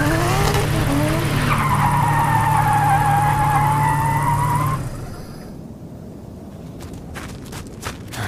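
A car engine revs under strain with squealing tires as a sound effect in a Fallout audio drama, loud and close, then cuts off, leaving scuffing and thudding sounds.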